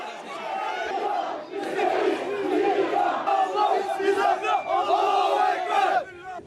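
An angry crowd of protesters outside a Turkish courthouse after the failed coup, shouting together and demanding the death penalty for soldiers being brought to trial. The loud mass of voices roars steadily throughout with rising and falling surges.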